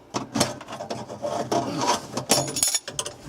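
A common screwdriver pushed hard to pry a snap ring off a garbage disposal mounting, producing close scraping and rasping metal clicks in uneven bursts.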